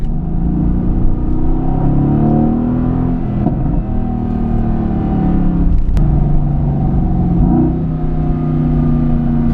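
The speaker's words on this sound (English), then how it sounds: "If we flick it into race mode, the revs on this car just become pretty amazing" Mercedes-AMG GT S in race mode, the engine droning loud and close with rising and falling revs as it shifts through gears, a brief sharp click partway through.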